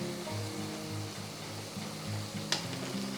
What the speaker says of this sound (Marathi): तर छान परत परतून घ्यायचं आपल्याला सगळे मसाले